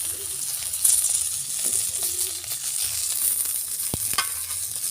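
Fish pieces frying in hot oil for a papaya fish curry, a steady close sizzle running throughout with a few light clinks from utensils, no talking.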